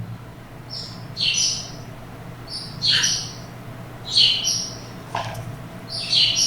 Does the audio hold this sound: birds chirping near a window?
yes